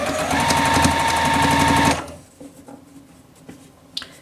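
A sewing machine joins quilt block pieces in one fast, steady burst of close stitching for about two seconds, then stops, leaving faint handling noises of fabric and the machine.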